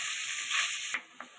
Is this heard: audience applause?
no